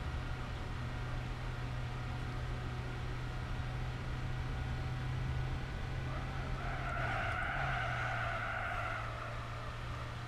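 A Citroen 2CV in the racing game Gran Turismo 4 drives on with a steady, low engine drone. Thin tire-skid squeals rise briefly near the end over the constant hum.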